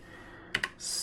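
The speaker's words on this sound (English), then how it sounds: "we're going to type in" A computer keyboard is typed on in two quick, close key clicks, then a short burst of softer rattling keystrokes, with no voices.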